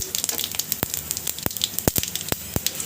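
Fenugreek and cumin seeds in hot oil in a pan sizzle softly over a gas flame, with a faint steady hiss broken by several sharp, separate pops and crackles.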